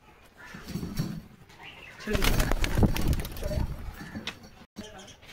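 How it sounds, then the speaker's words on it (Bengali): Local Kolkata tournament pigeons coo in soft, repeated throaty calls that grow louder midway, with quieter voices and rustling around them. "এটা আমাদের লোকাল কলকাতার গেরোয়াস নাম করা ফুলচিনা পায়রা।"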